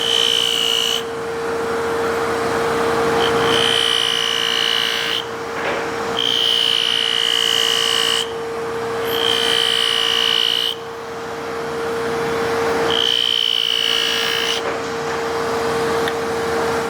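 Buffing machine polishing a Mora knife blade with 400 grit compound: a steady motor hum with repeated high whining bursts each time the steel is pressed to the wheel, close and fairly loud.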